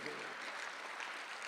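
A church congregation at a Sunday afternoon service claps together in a brief, dense burst of applause, steady and moderately distant throughout.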